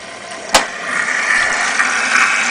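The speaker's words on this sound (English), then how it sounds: "in a second you'll hear water, and I will show you where the water's coming in" Water rushes into a Korean washing machine running a Delicate cycle, a steady hissing inflow after a sharp click near the start, with faint pump hum underneath and no talking.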